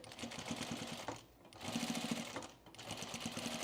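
A sewing machine runs close by while stitching a seam on a pre-quilted Tamarack jacket, a quiet rapid mechanical whir in two stretches with a short pause between them.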